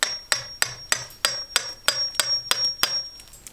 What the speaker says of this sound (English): We've got a chisel and a hammer, and all I'm going to do is just get in there